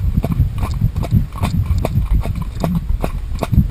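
Rhythmic clip-clop of a horse trotting, hooves striking in a steady quick beat close by, with a faint voice now and then.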